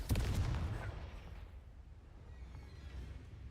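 Confringo spell blast from Hogwarts Legacy, a sharp explosive burst at the start followed by a rumbling crackle that fades away, fairly faint overall with no talk.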